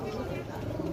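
Kaldam Giribaj pigeons at a busy rural livestock market coo in a short low murmur, half buried under the steady din of the crowd and nearby voices.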